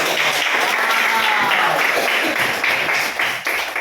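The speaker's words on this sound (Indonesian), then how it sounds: "kita tepuk tangan untuk temannya sudah" Students in a classroom applaud a classmate, a short burst of brisk, fairly close clapping that stays loud and then trails off slightly at the end.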